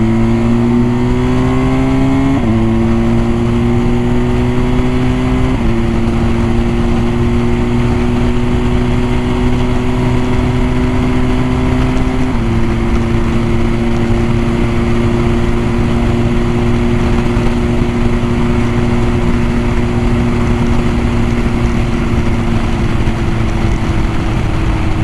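A motorcycle accelerates hard onto a highway, its engine loud and close, pitch climbing through several gear shifts before settling into a steady high drone with wind rush at speed.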